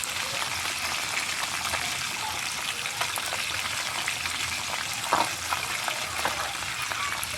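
Bangus milkfish sizzles steadily in a pan of hot oil, a close, loud, continuous frying hiss with occasional pops and a brief clatter partway through.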